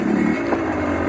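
A Kawasaki KX 100cc two-stroke dirt bike engine runs in first gear, a loud, close, steady buzzing drone with a slight swell in the middle and no talk over it.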